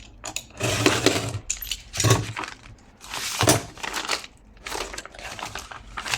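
A blade slices along a ruler in several close, crisp bursts of scraping and crinkling, separated by brief pauses, with no talk over them.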